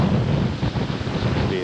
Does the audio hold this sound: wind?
yes